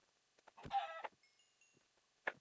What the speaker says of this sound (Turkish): Tavuğa vuruyorum.